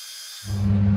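A milling machine drilling a sequence of holes into a metal water-hopper part mounted on parallels; motor hum starts abruptly partway in and then runs as a steady, loud drone with a grinding cutting texture, no talk.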